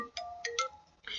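A phone ringtone sounds during a software tutorial, a short sequence of quick electronic chimes at low volume, fairly distant and alone.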